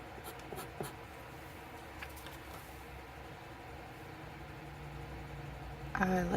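A TWSBI fountain pen nib writing on thick 160 GSM paper gives a soft, steady scratching close up, with faint taps and a brief louder rustle near the end.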